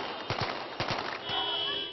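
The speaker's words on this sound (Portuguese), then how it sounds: "dando tiros para o ar" Celebratory gunshots fired into the air on streets in Libya, a few sharp bursts of cracks in quick succession, somewhat distant, over crowd and street noise.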